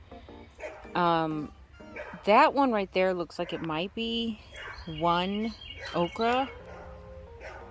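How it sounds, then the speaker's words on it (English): A neighbor's dog barks a few times in the background of a garden while a person talks nearby in the foreground, the barks partly masked by the voice. "That's my neighbor's dog."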